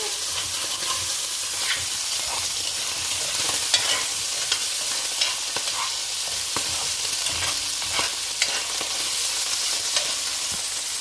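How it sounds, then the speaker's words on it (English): A spoon scrapes against a pan while saltfish sizzles and fries steadily, with sharp scraping strokes cutting through the constant hiss. "The spoon is going to make noise because you have to kind of scrape it."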